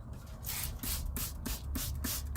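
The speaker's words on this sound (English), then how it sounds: "I'm going to do a fairly heavy spray on both sides." Repeated bursts of spray hissing onto paper, about a second apart in a steady rhythm, each with a small click at the start, close and fairly loud.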